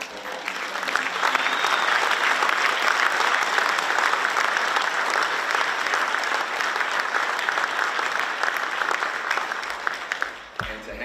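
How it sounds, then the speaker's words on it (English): Audience applause at an awards banquet, a long loud steady round of clapping from a large crowd that tapers near the end as a voice and a thump come in. "Y'all please give a round of applause for both of these gentlemen."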